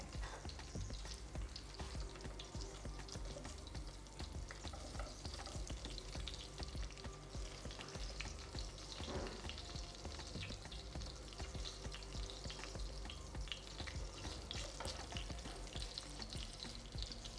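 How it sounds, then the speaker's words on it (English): Sausages frying in oil give off a continuous crackling sizzle, with small pops and spits throughout, and no voices. "whenever you're working with things like meat and you're frying it in oil"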